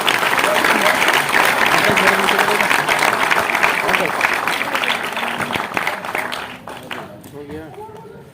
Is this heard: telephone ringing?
no